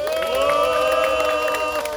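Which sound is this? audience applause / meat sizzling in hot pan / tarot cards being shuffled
audience applause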